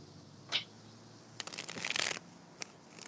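Quick riffling bursts of playing cards being shuffled, a short flick followed by a longer papery riffle and a few soft taps, close and fairly quiet.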